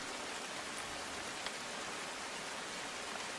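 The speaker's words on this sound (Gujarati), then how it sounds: "મહેસાણા શહેરમાં ભારે પવન સાથે વરસાદ" Steady, even rain hisses throughout a heavy, windy downpour in Mehsana city, Gujarat, a constant wash of sound with no talk.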